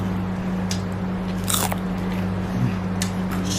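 Crisp, close bites into crunchy Jollibee fried chicken, several sharp crunches followed by chewing, heard alone over a steady low background hum.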